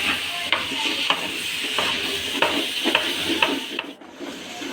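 Rice dry-roasts in a pan for Eid-day biryani, a soft sizzle broken by regular scraping strokes of a spoon stirring the grains, close by and with no one talking.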